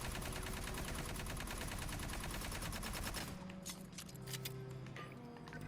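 An L36 Halberd in Aliens: Fireteam Elite fires a dense, continuous burst of rapid shots for about three seconds, then goes quiet except for a few sharp mechanical clicks and clacks of the reload.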